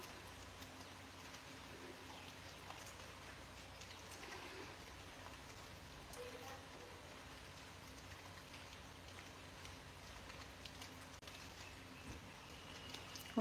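Soft, steady rain falls at a distance, a faint continuous patter with occasional bird calls in the background and no speech.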